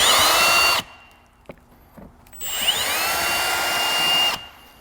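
A power drill bores holes larger while someone works on a 2005 Honda Odyssey interior and body repair, with two whining bursts separated by a quiet gap holding a couple of soft knocks.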